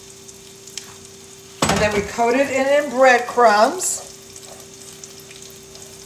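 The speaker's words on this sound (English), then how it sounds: "right now I'm lightly frying in olive oil and fresh garlic" Breaded eggplant slices frying lightly in olive oil with fresh garlic, a soft steady sizzle heard throughout, with someone talking over it partway through.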